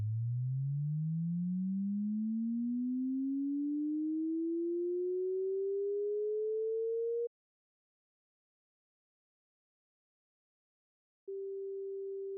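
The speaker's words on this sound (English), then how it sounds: "Suppose frequency increases from bottom to top along the vertical axis. Then the sound of a vertical line as it is traversed could be." A pure sine tone glides steadily upward in pitch for about seven seconds, stops, and after a few seconds of silence returns as a single steady tone.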